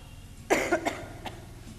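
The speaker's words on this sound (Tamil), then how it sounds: "என்னையா அப்படி வாய பத்தாம இருமுறீங்க" A man coughs in a clinic waiting area: one harsh burst followed by a few quick, rougher hacks. The coughing is close and clear over a low hum of room noise.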